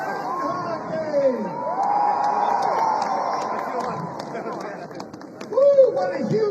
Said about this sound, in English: what a huge crowd